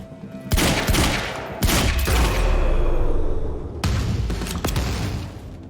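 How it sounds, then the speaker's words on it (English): Gunfire erupts in the Quantum Break video game, with a close, loud fusillade of shots breaking out in several bursts that run nearly continuously. "Open fire! Shoot him!"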